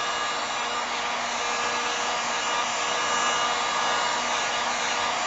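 A hair dryer on its lowest setting blows over wet acrylic paint on a small canvas, giving a steady, loud, unbroken whoosh from start to finish with no voices.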